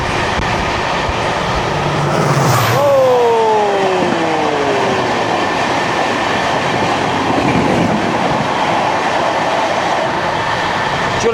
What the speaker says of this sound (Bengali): চলে গেল, নিমিষের মধ্যে চলে গেল 15610 গুয়াহাটি এক্সপ্রেস।